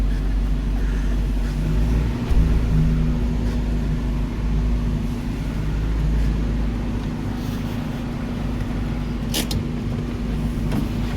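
A Geo Tracker engine drones steadily as the vehicle moves, a low continuous rumble at moderate volume with a brief knock partway through.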